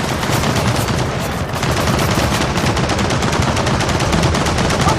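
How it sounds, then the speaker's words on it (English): Mounted turret gun firing in the video game Gears of War 4: a loud, unbroken stream of rapid automatic shots that runs the whole time with no pause and no voices. "We got a turret!"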